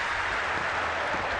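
A stadium crowd at an athletics Diamond League meet reacts to a failed triple jump, a dense, steady wash of collective crowd noise that holds evenly throughout with no distinct voices.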